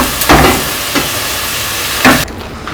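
Cauliflower frying in hot oil for Gobi Manchurian, a steady close sizzle broken by a few brief stirring or scraping bursts, with the crackle ending abruptly near the close.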